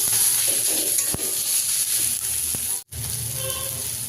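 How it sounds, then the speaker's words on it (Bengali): Ground turmeric, coriander, cumin and Kashmiri chilli powder sizzle steadily in a hot pan, a continuous loud frying hiss with a couple of faint clicks and a brief break near the end. "ভালো করে কষাবো মশলাটাকে।"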